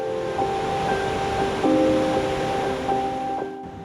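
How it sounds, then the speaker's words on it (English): Water flowing steadily at Gboyin Dam in Ekiti State, a continuous loud rushing wash with faint tonal notes drifting over it. "Flowing water, suitable for quenching the thirst of residents of Gboyin local government area."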